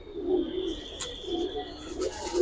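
Several pigeons coo in soft repeated bursts, with a couple of sharp brief clicks or taps between phrases and a faint high tone behind, nearby and without speech.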